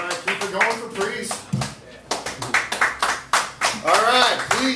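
Audience applause at a poetry reading in a living-room venue, with a brief burst of clapping and cheering under a host's voice.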